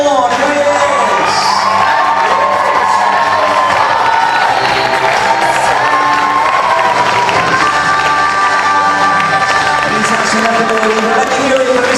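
A variety show crowd cheers and whoops for performer Tom Bourne, a loud, sustained roar of shouting voices mixed with clapping that fills the whole stretch, with some tonal sound running underneath.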